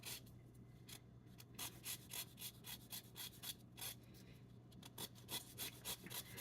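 A lime being zested on a grater, a steady run of quick rasping strokes, close and fairly faint, repeating rhythmically throughout.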